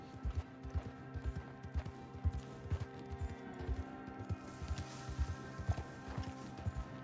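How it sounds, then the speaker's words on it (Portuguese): Horse hooves clip-clop in Red Dead Redemption 2, a steady walking rhythm of distinct, moderately loud hoof hits over a low game soundtrack hum. "Esse aqui é o cavalo"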